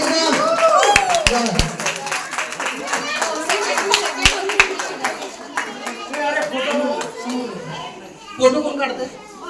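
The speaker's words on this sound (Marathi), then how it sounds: "जोराने टाळ्या होऊ देत एकदम." Loud, sharp hand claps ring out at a housing-society Home Minister paithani game event, mixed with children's voices and crowd chatter. Several distinct near claps stand out among looser clapping throughout.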